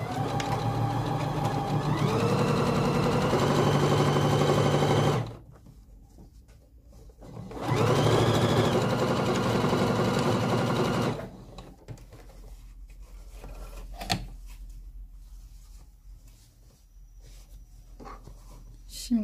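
Sewing machine stitching a pocket bag face to face onto garment fabric, running in two loud continuous bursts with pauses between, followed by quieter handling sounds and occasional clicks.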